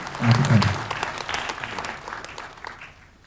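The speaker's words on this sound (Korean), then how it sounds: "뜨거운 박수로 맞아주시기 바랍니다" Warm applause from an audience at a North Korean human rights week event in Australia, greeting the Honourable Michael Kirby as he comes to speak. Dense clapping swells at the start, then thins and fades steadily.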